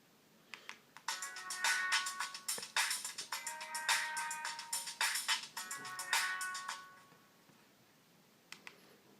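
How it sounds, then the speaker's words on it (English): A Sony Ericsson K300i mobile phone plays its ringtone, a bright electronic melody of quick repeated beeping notes that rings for several seconds, then falls quiet with a couple of brief blips near the end. "this epic sound of Sony Ericsson"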